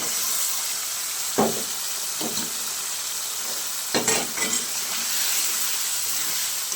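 Spice masala for a chhena curry frying in a pan, a continuous hiss and sizzle with a few scattered stirring scrapes, close and fairly loud, no talking.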